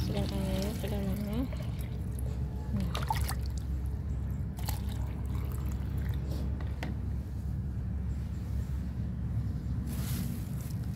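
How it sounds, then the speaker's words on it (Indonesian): Water is poured into a container holding onion skins, mixing splashing and trickling while a person talks over it at close range. "kemudian kita masukkan airnya ke dalamnya"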